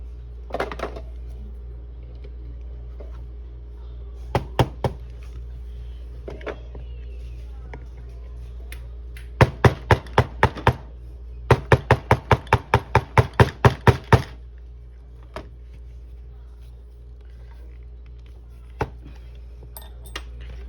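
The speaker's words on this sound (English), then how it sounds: "So we're gonna knock that pin out." Sharp metallic taps of a punch knocking a pin out of a Glock 43X pistol frame during installation of extended controls, scattered single knocks and then a quick run of about a dozen close, bright strikes.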